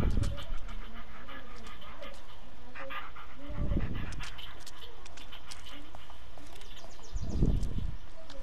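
A red dog pants audibly in the woods of the Blair Witch video game, steady close breathing with a few louder bursts of huffing, over an ambient forest bed with faint bird calls.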